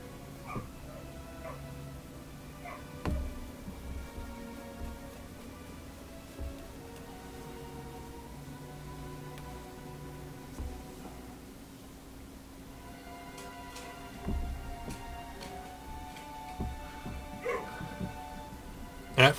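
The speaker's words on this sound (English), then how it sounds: "Excuse the dogs, they're outside playing." Dogs play outdoors at a distance, letting out intermittent yips, short barks and whimpers scattered across the stretch. They sit faintly behind a steady low hum of game audio, with someone talking now and then.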